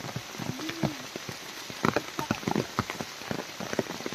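Heavy monsoon rain in the Konkan patters hard and close on surfaces, with uneven bursts of drops and splashes, and a brief voice partly over it.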